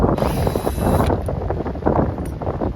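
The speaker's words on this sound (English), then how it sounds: "It's kind of windy here" Gusty wind buffets the microphone with uneven low rumbling and fluttering, steady throughout and close.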